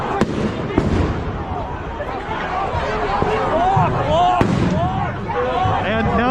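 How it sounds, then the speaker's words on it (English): Police flashbang grenades go off at a night street protest, several sharp loud bangs ringing out amid crowd noise, shouting and nearby talk. "the flashbangs are going off behind me, and I'm being pushed into them"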